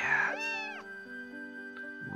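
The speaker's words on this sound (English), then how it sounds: "Loud cat." A cat in the visual novel game Princess Evangile lets out a loud, drawn-out meow over soft background music.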